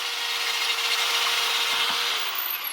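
A drill scrubs rust off a brake part from a 1997-2001 Toyota Camry, a continuous close, abrasive grinding whir that holds steady throughout, with no talk.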